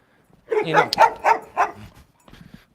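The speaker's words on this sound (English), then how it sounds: "that dog is smaller than Bochi, and his bark is, I think his bark's even louder than Bochi at times" A small dog barks loudly four times in quick succession, close by, followed by a fainter yip after a short pause.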